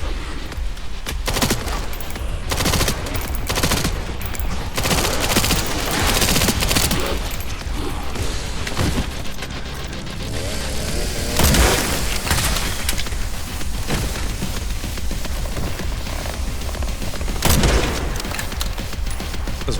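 Loud, dense rifle gunfire in the video game Resident Evil Requiem, shots cracking continuously in rapid bursts with booming impacts throughout.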